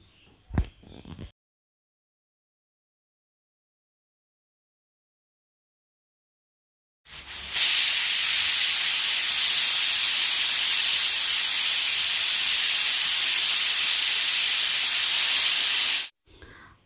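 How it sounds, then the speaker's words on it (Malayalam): A pressure cooker cooking beef releases a loud, steady rush of hissing steam lasting about nine seconds before cutting off abruptly, preceded by a brief knock and then silence. "കുക്കറിൽ 5 വിസിൽ വരുന്നത് വരെ നമുക്കിത് വേവിച്ചെടുക്കാം"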